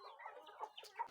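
Farm chickens cluck softly while feeding, a brief run of faint, close clucks and murmurs.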